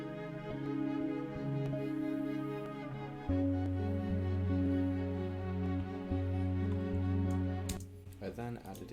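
Sustained synth chords wash along with a wavering, pulsing tremolo and a reverberant tail, shifting chord partway through, ending with a few stray clicks.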